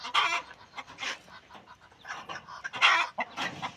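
Chickens clucking and squawking in short bursts close by, with a rooster-like call among the busy farmyard noise.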